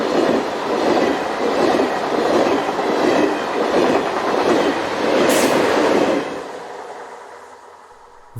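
Locomotive 36009 hauls a heavy freight train of steel coil toward the Charleroi steelworks in Belgium, its wagons rumbling past with a rhythmic clickety-clack for about six seconds before fading, a brief high squeal partway through.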